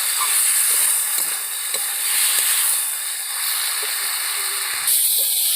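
Chicken pieces sautéing in a pan for a chicken and cauliflower curry, giving a steady close hiss and sizzle with a few soft scraping stirs and no talking.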